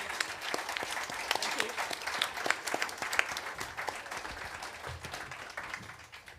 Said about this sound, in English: A round of applause from everyone, please.